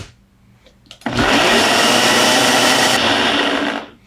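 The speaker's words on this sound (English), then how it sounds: "Now I'm just using my little Ninja blender here." Small Ninja blender crushing frozen strawberry daiquiri, starting abruptly after a quiet moment with a loud, steady whirring grind for nearly three seconds before cutting off.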